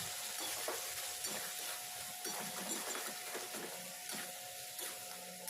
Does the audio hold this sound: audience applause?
no